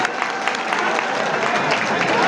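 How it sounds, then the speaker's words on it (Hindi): Audience applause at a kabaddi semi-final match between Indore and Bhopal, a dense steady wash of clapping from a crowd, fairly loud and continuous with no clear breaks. "जोरदार ताली बजा दें एक बार"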